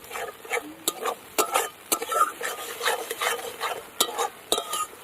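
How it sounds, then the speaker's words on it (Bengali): A spoon scrapes and stirs spice paste in a pan for Amudi fish curry, making quick, irregular scraping strokes over a soft sizzle, close and fairly quiet. "এই যে ভালো করে আমি একদম নেড়ে নিলাম মশলাটা"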